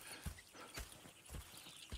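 Horse hooves clip-clop in Red Dead Redemption 2 as four or five distinct, evenly spaced hoofbeats over a quiet background, close by and fairly soft.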